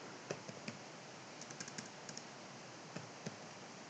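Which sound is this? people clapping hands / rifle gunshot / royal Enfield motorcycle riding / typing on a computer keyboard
typing on a computer keyboard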